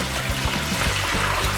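Water pours into a bucket in a short, continuous splashing trickle that stays close and steady from start to finish.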